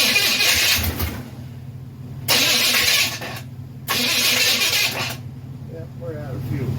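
A 1931 Model A engine runs out of fuel, catching in three loud, rough bursts of running that each cut out abruptly, leaving a low murmur between them, with a voice nearby.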